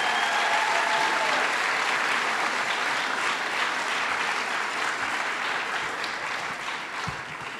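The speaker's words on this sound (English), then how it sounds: "let's give a round of applause for some bipartisan," Sustained audience applause at a political event honoring a congresswoman, a dense, steady wash of many hands clapping that fills the whole stretch and fades only slightly toward the end.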